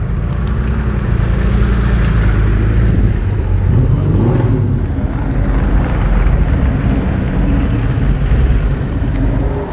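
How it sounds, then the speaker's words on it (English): Porsche 964 cars idling and warming up together at a track day, a loud, continuous low engine rumble that holds steady throughout with no one talking. "You hear the car starting one by one, heating up a little bit"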